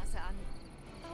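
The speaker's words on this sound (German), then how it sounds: "Da zirpen die Grillen, hört man, ne?" Crickets chirp in a steady, soft chorus against a quiet night backdrop in Bus Simulator 18, with a brief brighter burst near the start.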